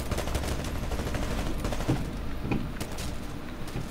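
Gunfire in Titanfall, a continuous run of rapid shots rattling through a dense, busy mix at steady loudness, with occasional sharper cracks standing out.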